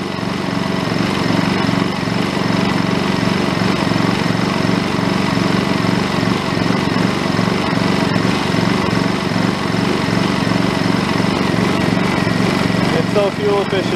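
A Honda EU2200i inverter generator engine runs steadily for the whole stretch, a loud, even motor drone with a constant hum and no pauses.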